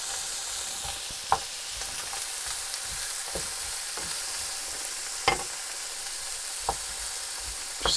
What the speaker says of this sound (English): I'm going to just keep stirring until these are gently sautéed